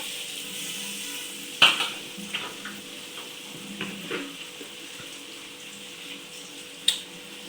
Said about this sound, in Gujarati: આપણા જો બટેટા કકડવા મળ્યા છે તેલમાં